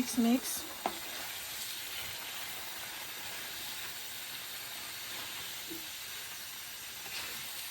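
Shrimp and their juices are stirred back into a sizzling pan of lo mein, giving a steady, fairly quiet hiss with a few utensil scrapes near the start and no talking.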